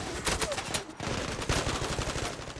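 Rapid automatic gunfire in the online shooter Zula, bursts of sharp close shots in quick succession with a short pause partway through, loud and dense throughout.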